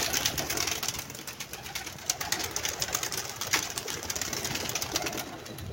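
A flock of pigeons takes flight together, a dense steady flutter of many wings with occasional soft coos, continuous and moderately near, no voices.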